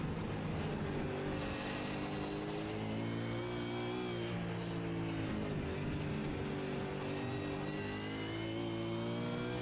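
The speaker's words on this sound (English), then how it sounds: "Take a listen to the engine sounds." Onboard engine of a race car at Sandown in the iRacing sim, revving continuously with rising and falling pitch through gear changes and braking, loud and close for the whole stretch, no voices.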